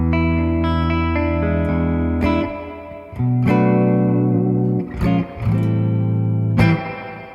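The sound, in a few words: Fender Jazzmaster electric guitar playing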